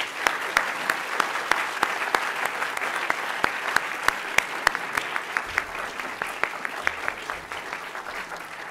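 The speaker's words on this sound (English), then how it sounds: "Let's give them a round of applause." An indoor audience at a prize ceremony applauds steadily, a dense wash of clapping with sharp individual claps standing out, sustained throughout at moderate loudness.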